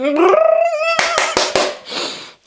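A dog howls in a restaurant, its rising, wavering voice up front, followed by several sharp clattering knocks and then a burst of clinking noise.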